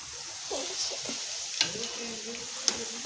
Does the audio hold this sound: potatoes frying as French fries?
yes